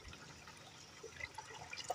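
Spring water runs out of a pipe at a mountain farm, a faint soft trickle and splash with scattered droplet sounds.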